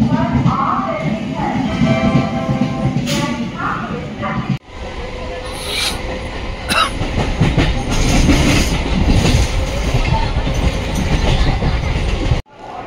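A Sealdah–Budge Budge local train rumbles along with a rhythmic clickety-clack of wheels on rails, loud and close, with a brief break in the noise midway and some voices in the carriage.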